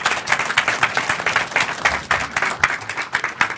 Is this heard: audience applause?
yes